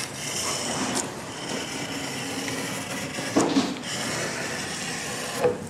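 Cured fibreglass roofing laminate is trimmed along a timber edge, giving a continuous close rasping, grinding scrape with brief louder bursts.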